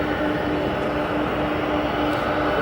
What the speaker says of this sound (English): we'll get some fantastic sound from those 4 CF6 engines